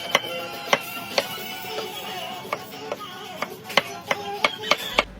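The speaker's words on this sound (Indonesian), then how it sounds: "Terus aku mau lanjut juga iris-iris tomat merah." A knife slicing red tomatoes on a cutting board, with a string of crisp, unevenly spaced taps that come closer together toward the end, close by and with no talking.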